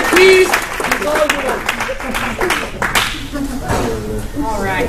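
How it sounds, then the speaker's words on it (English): Audience applause for Erin at a mindset presentation in Sacramento, a burst of clapping from a crowd under louder nearby voices talking and laughing. "Another big round of applause for Erin"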